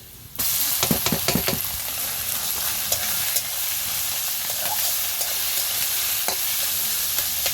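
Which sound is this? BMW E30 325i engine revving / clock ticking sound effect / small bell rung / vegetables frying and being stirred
vegetables frying and being stirred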